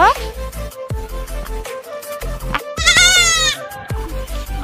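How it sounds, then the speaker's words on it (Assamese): A young goat bleats repeatedly, close by, with several wavering high cries, one long quavering call in the middle, over a constant low hum. "ছাগলী পোৱালিটো দেখি তাই ল'ব গৈছে"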